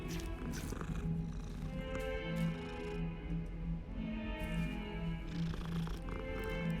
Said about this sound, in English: Is this Filch's cat?